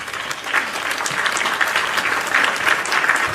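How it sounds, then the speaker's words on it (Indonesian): Audience applause at a talk event, a steady dense wash of many hands clapping throughout, moderately loud and close, with no talking over it. "Tepuk tangan."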